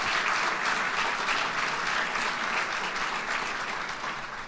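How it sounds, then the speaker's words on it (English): An audience at a University at Buffalo ceremony claps warmly for the governor, a continuous wash of applause at moderate volume that eases off slightly toward the end. "Let's give the governor another round of applause."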